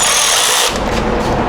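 A power tool runs up to snug the valve cover bolts on a 2008 Mitsubishi Lancer GTS engine, a loud continuous whirring buzz that shifts pitch partway through, close up with no speech.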